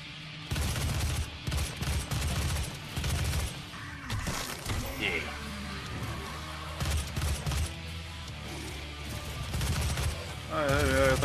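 Rapid gunfire in the video game Doom crackles in repeated close, loud bursts, mixed with other game effects and brief mechanical clatter.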